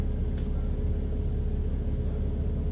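Steady low rumble of traffic around Clapham Junction, with engine drone continuous and moderately loud throughout, no voices.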